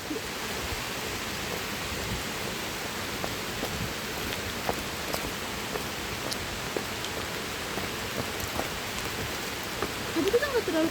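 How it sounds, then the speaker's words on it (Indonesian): Rain falls on trees in a steady, dense hiss, close and continuous, with a few louder drops near the end. "Hujannya kena pohon."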